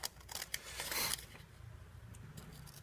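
Scissors snip through paper while a battery holder is being made, a few quiet crisp cuts and a longer rustling slice in the first second, then faint handling noise.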